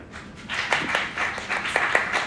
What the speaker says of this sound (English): Certainly worth applauding.